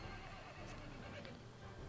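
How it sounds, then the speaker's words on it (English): A horse neighs amid a Mount & Blade: Warband multiplayer siege, its faint whinny buried in dense battle noise with hooves clopping. "Calm down, horse. The horse has got an axe in its arse there."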